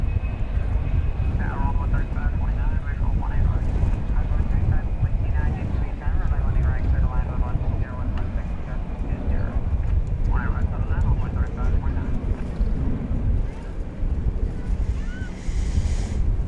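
Jet airliners at the large, busy DFW Airport in Texas give a steady, broad engine roar mixed with wind noise on the microphone, with a voice talking over it throughout.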